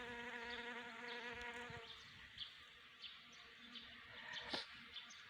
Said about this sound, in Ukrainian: Бджоли, бджоли, гудуть.